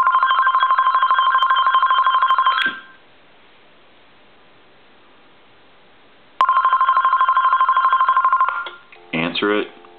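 An AT&T SL82418 cordless telephone rings in two loud electronic warbling bursts separated by a few seconds of quiet, followed by a brief clatter and a short snatch of speech.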